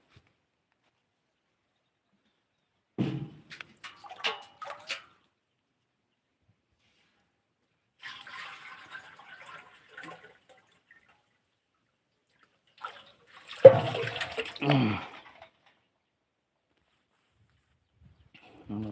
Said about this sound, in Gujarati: હું આ કુંડીમાંથી પાણી ભરી લઉં છું